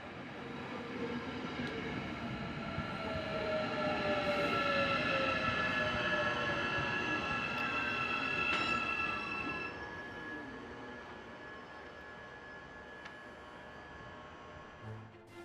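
Interior of a Matangi electric multiple unit, number 4443, running to Wellington, with a steady rolling rumble, rising and falling electric motor whine, and rail clatter, loudest midway and easing toward the end.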